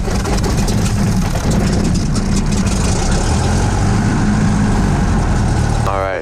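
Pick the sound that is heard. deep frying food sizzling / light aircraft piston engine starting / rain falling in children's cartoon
light aircraft piston engine starting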